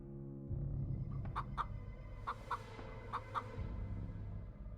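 Repeated clucks from a chicken in a dungeon crawler video game, several short calls spaced through the middle of the clip over a steady low game background hum.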